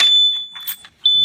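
A security system alarm emits a loud, piercing steady tone that drops away briefly, with faint scattered clicks between, then blares again right at the end.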